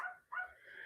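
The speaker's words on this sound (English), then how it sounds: "y'all hear my puppies?" Puppies give two quick high whimpering yips in close succession, faint and close by, with no talk over them.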